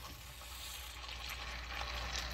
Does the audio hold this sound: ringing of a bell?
no